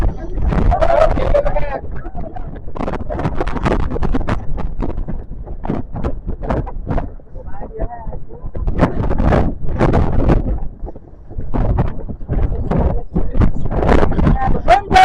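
Intense wind gusts buffet an outdoor microphone at Meteor Crater during a guided tour. Loud, low, rumbling bursts surge and drop again and again, nearly without pause.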